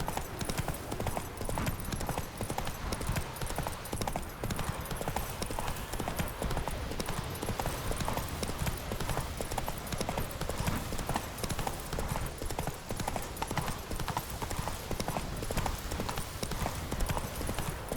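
Steady rapid clip-clop of a horse's galloping hooves in The Witcher 3 runs throughout, dense and continuous, with a faint background hum like a game soundtrack.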